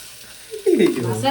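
Tempering spices dropped into hot oil for a curd-based sambar in a home kitchen, a sudden loud sizzle bursting in partway through and continuing steadily, with a voice talking alongside.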